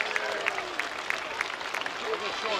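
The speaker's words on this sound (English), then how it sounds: "shall we give him a great big round of applause, Clacton?" Crowd at a seaside airshow in Clacton applauding after a display aircraft lands, a dense patter of clapping sustained throughout, with a voice and background sound mixed in.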